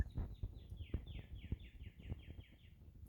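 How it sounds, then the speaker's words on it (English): Several birds chirp loudly in the morning, repeated short descending calls close by, mixed with low thumps and soft background rumble; no talking. "the birds chirping loud"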